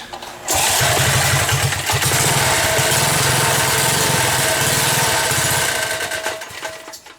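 A small gas engine on a motorized bicycle starts up and runs, a loud, close, rapid buzzing putter that holds steady for several seconds before easing down at the end.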